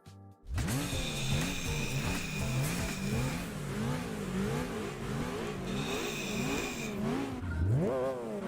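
A car fitted with a sports exhaust in Gran Turismo 4 starts up and revs repeatedly, the engine note rising and falling in loud, rhythmic surges through the clip, with no talk over it.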